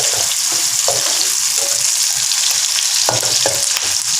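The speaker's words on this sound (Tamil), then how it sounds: "இஞ்சியும் பூண்டு, பச்சை மிளகாய் போடுறேன், வெட்டி வச்சதை போடுறேன்." Ginger, garlic and green chilli frying in a pan for stir-fried squid, a steady close sizzle with a few scrapes and knocks of stirring, no voices.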